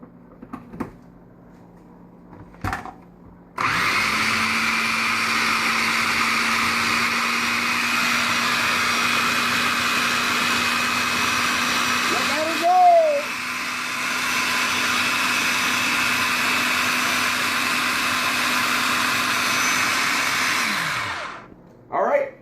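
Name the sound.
blender blending salsa ingredients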